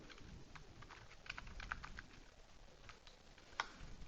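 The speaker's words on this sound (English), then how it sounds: "In A4, we're going to be typing revenue." Quiet typing on a computer keyboard while entering row titles into an Excel spreadsheet, soft scattered clicks in short irregular bursts with one sharper tap near the end, over low background hiss.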